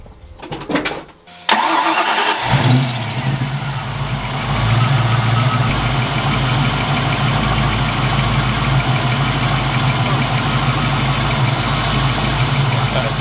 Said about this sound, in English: let's see if we get this clutch compressor turned on